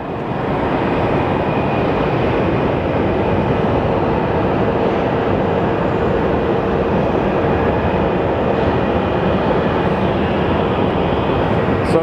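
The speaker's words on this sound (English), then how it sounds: "So we'll be getting a rare takeoff from runway 26." A Southwest airliner taking off from runway 26 at Phoenix Sky Harbor produces a loud, steady jet roar that holds at full strength throughout, with a faint high whine over the broad rumble.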